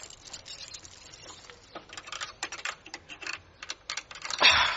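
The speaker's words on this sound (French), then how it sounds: "en essaie plusieurs pour ouvrir la grande grille" Irregular metallic clicks and rattles of a bunch of keys being tried one after another in the lock of a large iron gate, close and fairly quiet, growing busier toward the end.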